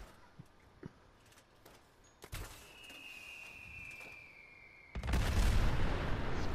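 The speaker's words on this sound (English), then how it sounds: "Fireworks!" Fireworks go off in a modded video game: a sharp crack, then a rising whistle, and finally a loud sustained roar of bursting explosions at close range, with a person's voice heard faintly.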